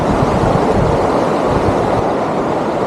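A river swollen by heavy rain in Rogaland, Norway, rushing in a steady, loud broadband roar that holds constant throughout with no speech.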